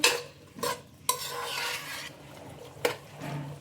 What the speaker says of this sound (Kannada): ಚೆನ್ನಾಗಿ ಒಂದ್ಸಲ ಮಿಕ್ಸ್ ಮಾಡ್ಕೊಳ್ಳಿ